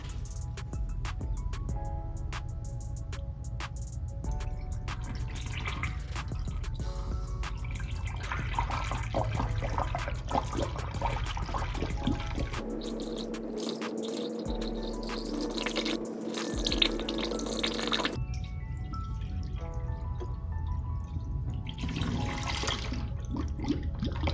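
Coolant pouring through a cheap plastic radiator funnel with an anti-spill attachment on a Nissan radiator, a steady gurgling trickle with drips and glugs, fairly close and continuous.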